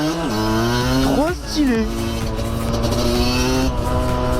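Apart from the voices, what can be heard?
military vehicle driving past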